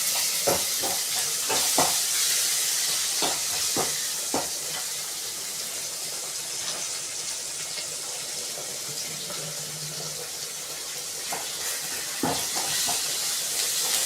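Curry leaves and fresh coriander being sautéed in a pan for Tamil fish curry, with a steady sizzle and intermittent scraping stirs throughout, close and moderately loud with no talking.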